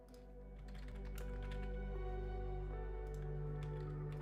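Keys clatter on a computer keyboard in irregular quick bursts, close and fairly faint, over a steady low hum from a flight simulator setup.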